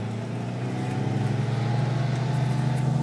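A Chico's Performance Racing car engine hums at a steady low pitch and builds slightly, as if pulling through a gear at cruising speed, close by with no voices.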